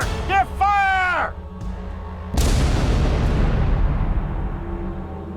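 Shouted commands lead into a dramatized musket volley: one sudden loud boom followed by a long, rumbling decay that fills the remaining seconds.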